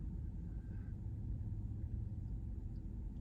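Inside a parked car, a steady low rumble fills the cabin, even and continuous, with no voices over it.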